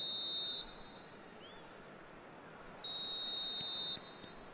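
Referee whistle starting a match in the eFootball 26 video game: two steady, shrill whistle blasts, a short one and then a longer one, sounding over a constant stadium crowd roar.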